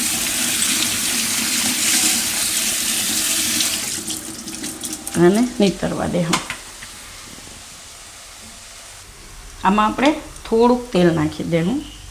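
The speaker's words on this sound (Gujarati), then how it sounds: "એમાં પાણી નાખી દેવાનું એકદમ ઠંડા કરી લેવાના" Water poured over freshly cooked wheat-flour noodles to cool them, a steady splashing rush for about four seconds that gives way to quieter trickling while someone talks nearby.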